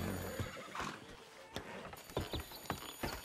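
In Red Dead Redemption 2, a horse-drawn coach sounds a loud nearby whinny and then rhythmic clip-clop of hooves, with no talking.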